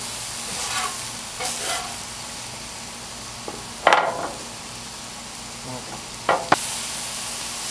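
Cheesesteak filling cooking on a Blackstone griddle, a soft continuous sizzle broken by a few sharp metal spatula scrapes and clanks, close by with no talking.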